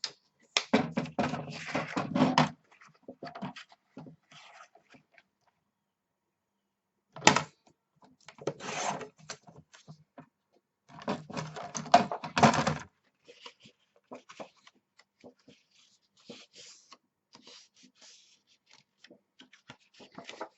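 Excess paper is trimmed from a mini album in bursts of close scraping and snipping, separated by silent pauses and lighter handling taps.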